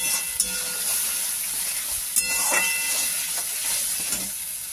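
Whisked sour yogurt with salt simmering and being stirred in a hot pan, a steady hissing sizzle with a few sharp clinks and scrapes of a utensil against the pan.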